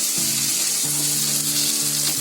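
Potato and mixed vegetables sizzle steadily in a pan while poha is being cooked, a bright continuous hiss heard up close. A low background hum runs underneath, and no one speaks.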